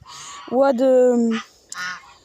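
Guinea geese give a loud, nasal, drawn-out honk up close, followed by two shorter, harsher calls after a pause.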